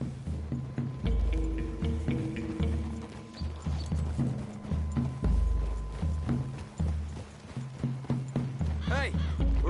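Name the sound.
horses hooves clip-clopping in Red Dead Redemption 2 video game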